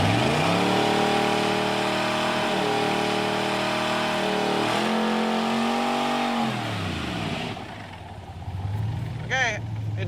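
A swapped 350 V-8 in a 1966 Corvette, inside a car wash, rising and falling through several loud revs in sweeping waves before dropping to a rough idle, with voices and a brief squeal near the end.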